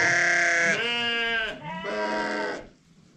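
A lamb bleats loudly and close in a few long wavering calls, the cries running back to back before fading out, with no talk over them.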